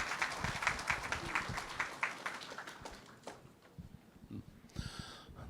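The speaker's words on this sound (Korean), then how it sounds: "큰 박수 부탁드리겠습니다." Applause greets a professor being introduced as keynote presenter at a Siheung city council policy forum on childcare and education, clapping strongest at first and thinning out before a voice begins near the end.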